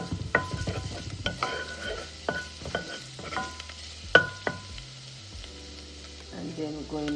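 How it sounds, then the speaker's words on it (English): Garlic sautés in melted fat in a pot for Jamaican pumpkin rice, a close crackling sizzle broken by clinks and scrapes of a utensil stirring, with no one speaking over it. "To that we're going with some garlic. And just saute that a little."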